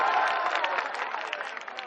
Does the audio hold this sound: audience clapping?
yes